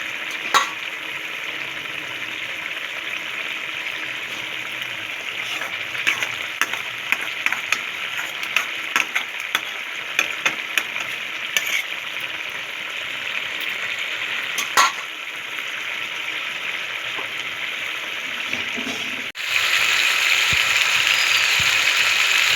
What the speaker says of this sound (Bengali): আলুটা দেখতে ফুটছে